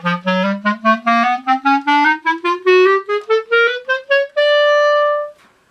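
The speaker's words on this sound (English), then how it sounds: "the articulation pattern of slur 2, tongue 2. That sounds like this for a portion of the chromatic scale." Clarinet plays a rising chromatic scale in a slur-two, tongue-two articulation, paired smooth notes alternating with separately tongued ones, ending on a held top note; close and clear, solo with no talk.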